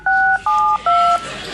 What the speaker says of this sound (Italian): proviamo a fare il numero